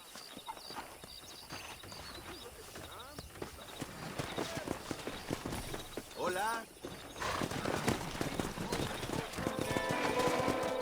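Horses in the video game Red Dead Redemption clatter along in a rapid, dense run of hoofbeats, with a whinny partway through, swelling louder toward the end; a voice briefly speaks.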